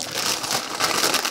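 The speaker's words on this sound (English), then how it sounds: "Get some Doritos. Crush them up." Doritos tortilla chips crushed by hand in their bag, a dense, steady crinkling and crackling of crumbling chips that runs close and fairly loud throughout, with no talk.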